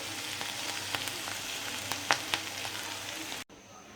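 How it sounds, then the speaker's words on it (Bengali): Bitter gourd slices fry in a pan with an even, continuous sizzle and a few sharp spits and pops, close up and moderately quiet, then the sound cuts off abruptly near the end. "আর করলা ভাজিটা ভাজা ভাজা হয়ে আসছে প্রায়, আরও ভাজা ভাজা হবে"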